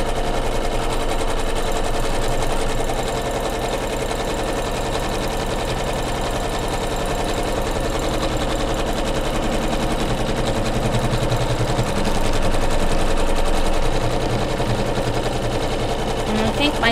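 A sewing machine quilting, tacking down batting on a pillow project, runs in a rapid, continuous mechanical chatter close by, with a brief shift in pitch partway through and no clear speech.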